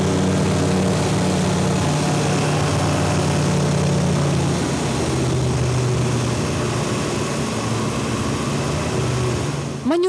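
A training aircraft engine drones steadily through spirals and dives in flight, loud and close throughout, with harmonic tones shifting slightly as the manoeuvres change the load.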